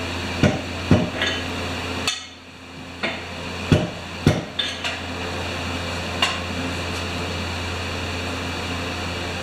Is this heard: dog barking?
no